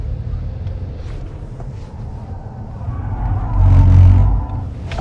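An electric car drifting at Electrify Expo, a rushing tire and motor roar that builds to a loud surge near the end, heard from close by over muffled background noise.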